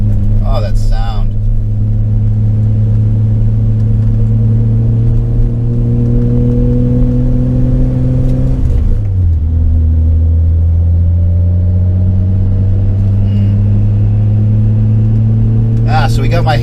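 A 1988 BMW iX engine revs steadily while driving on a road, its close, loud drone climbing slowly in pitch. About halfway through, it dips with a gear change and then starts climbing again.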